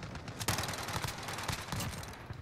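Rapid automatic Mini Uzi fire in Modern Warfare, a dense rattling burst of shots with a sharp crack near the start, close and continuous over about two seconds.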